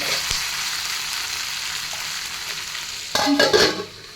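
Egg and okra curry being stirred in a pan, a soft continuous sizzle for a few seconds, then a louder burst of scraping and clattering from the spoon near the end.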